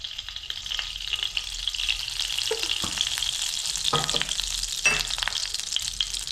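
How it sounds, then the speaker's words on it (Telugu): Ghee sizzles and crackles steadily in a pan while boondi laddu is made, a close, fairly quiet frying hiss with a few small pops and no talking. "కొంచెం నెయ్యి వేసుకుందామా."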